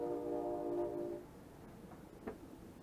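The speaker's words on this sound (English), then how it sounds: "That sounds like Amtrak." An Amtrak passenger train's horn sounds steadily for about a second, then fades into a low, distant rumble with a faint clank as the train passes far off.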